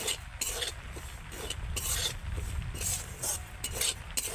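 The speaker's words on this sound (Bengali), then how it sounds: "সুজিটা দিয়ে কিন্তু অল্প আঁচে একটু নেড়ে চেড়ে ভেজে নেব" Dry semolina scraped and stirred around a pan with a spoon over low heat, repeated rasping strokes in an uneven rhythm, close by, with faint sizzling underneath.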